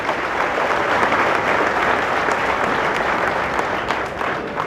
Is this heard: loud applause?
yes